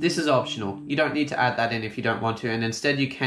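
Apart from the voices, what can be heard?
No everyday noises stand out.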